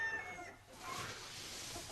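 Chickens cluck in a chicken pen, a soft, fairly distant burst of calls near the start with faint clucking continuing through the rest over steady background noise.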